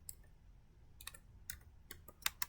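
Computer keyboard keys tapped in short, uneven bursts of sharp clicks, fairly close and quiet, with a few louder strokes near the end and no voices.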